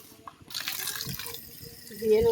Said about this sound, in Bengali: এবারে আমি মাছটা ধুয়ে নেবো